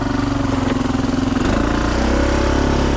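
A Honda Foreman 500 ATV engine in four-wheel drive, fitted with a 2-inch lift, chugs in a steady, close mid-pitched idle before revving up slightly partway through, with no talking.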